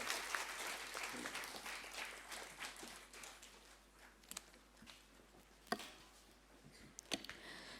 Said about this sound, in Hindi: एक बार उनका जोरदार तालियों से स्वागत करें